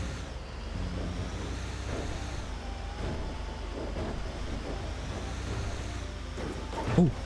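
An elevator lift in the video game Star Citizen running loudly, a steady low mechanical drone and rumble with faint tonal hum and occasional clanks, constant throughout with a brief louder knock near the end.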